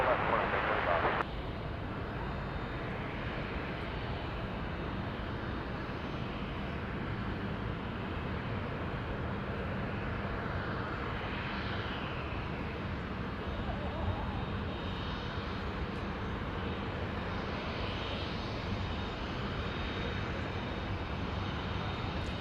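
An airliner takes off from runway 34 left at Sydney Airport at night, its engine roar steady and broadband for over twenty seconds after a short louder burst at the start, with air traffic control radio talk layered on top.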